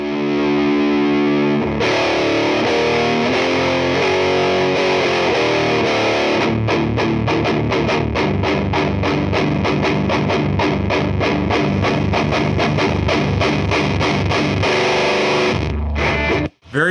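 Heavily distorted electric guitar through a Bugera TriRec amplifier with volume and gain cranked, opening on a sustained saturated chord and then chugging in fast palm-muted rhythm, loud and dense with no talking.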